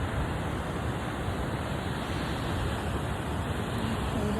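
Ocean surf breaks on a beach in a steady, broad wash of noise, heard alone and unbroken, with some wind buffeting the microphone.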